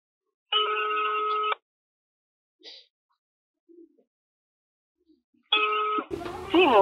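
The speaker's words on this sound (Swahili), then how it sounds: "Simu unayoipigia haipokelewi." Telephone ringback on an unanswered call: two clear, loud electronic ring bursts about four seconds apart, with faint small noises in the quiet gap and a voice starting right after the second ring.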